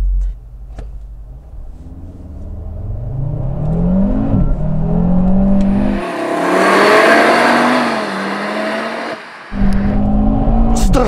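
A 2022 Audi RS3 400 sedan with its engine revving up hard on kickdown, rising and falling as the gears change, loud and close, with a short drop in the middle before the engine note picks up again.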